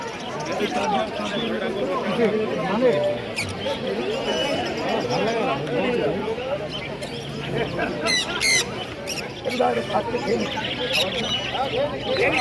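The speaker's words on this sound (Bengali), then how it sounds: "দেখুন কত ভ্যারাইটিস ধরনের পাখি রয়েছে" Many caged birds, including budgerigars, chatter and squawk at an open-air pet bird market near Dakshineswar. Their dense, continuous calls sit under someone speaking nearby throughout.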